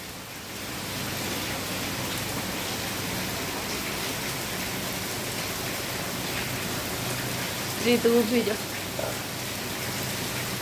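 Heavy rain pours steadily at a rural Gujarati home with cows and a dog nearby, a dense hissing wash throughout, with a brief close knock near the end and faint voices underneath.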